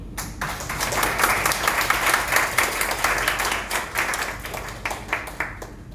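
An audience applauds continuously, many hands clapping in a dense, even patter that tapers slightly toward the end.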